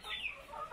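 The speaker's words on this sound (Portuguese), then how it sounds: "As galinhazinhas estão tudo aí, ó." Chickens on a rural farm give a quick burst of clucking and fowl calls, fairly close but modest in level, lasting under a second with no talking over it.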